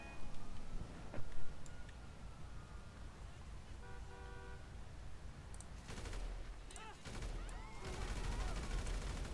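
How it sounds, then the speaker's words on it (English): Bursts of assault rifle fire from GTA V gameplay on PC, rapid cracks in clusters in the second half, mixed with traffic sounds, a car horn and a steady game background. "let's just go for a normal assault rifle"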